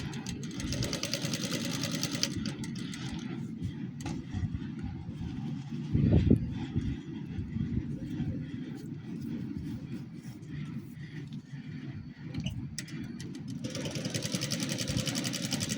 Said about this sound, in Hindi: इसमें आपने धागा नहीं डालना, इस तरह आपने मशीन चलानी है, खाली मशीन।